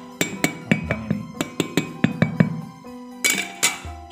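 Knuckles rap on a ripe Montong durian fruit, about a dozen sharp, hollow taps in quick succession, close and clear with a short pause before a few final knocks.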